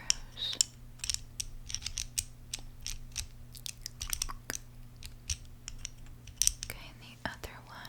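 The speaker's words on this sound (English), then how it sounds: "I'm just going to be using a small screwdriver to remove your chest plate, okay? So, I'm just going to take out those screws." Close-up clicking and ticking of a small screwdriver working out screws in an ASMR roleplay, quick irregular metallic taps and ratcheting clicks over a quiet hum, with soft breaths or whispers between.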